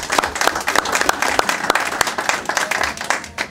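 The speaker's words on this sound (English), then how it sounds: "We can give her a clap." Applause from the audience at a town council meeting honoring a newly sworn-in official. Clapping is dense and fairly close, holds steady with sharp individual claps throughout, and there is some faint background voice.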